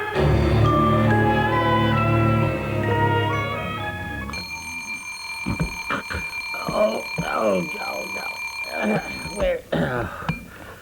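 An alarm clock rings as a radio-drama sound effect, a long continuous bright bell lasting about four seconds, followed by rustling, bed noises and a voice.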